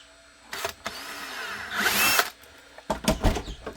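A power drill whirs in short bursts while fitting an OD green carbon part on a Rock 5.7 build, the motor revving up and down alongside scattered clanks, ratcheting and handling knocks.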